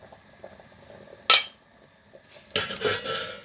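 Sterilized metal jar lids lifted out of a pot of water, sharp metallic clinks and clatter, one bright clink followed a second later by a longer rattling scrape, close by.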